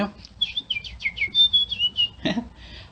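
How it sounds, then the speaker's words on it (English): Small songbirds whistling, warbling and chirping in a quick run of bright, high notes, fairly close and lively, with a short low thump partway through. "there were birds that would whistle and warble merrily, and they would chirp"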